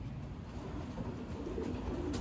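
Racing pigeons coo softly in a trap, a low, steady murmur of calls running throughout with no talking.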